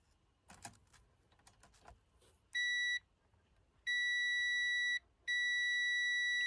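A multimeter's continuity tester sounds three sharp, loud electronic beeps of different lengths, preceded by faint clicks and handling of the probes, during ceiling fan wiring work.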